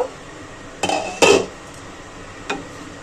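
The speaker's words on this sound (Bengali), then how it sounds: "ঢাকাটা খুলে দেখব" A metal lid comes off a pot of boiling chicken on a gas stove with a couple of close clinks and clatters, then a lighter knock, over quiet background hiss and no talking.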